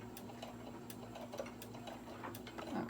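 A sewing machine stitches the seam of a boxed-bottom cosmetic bag, giving a faint, even run of regular ticking clicks that keeps going throughout with no talk.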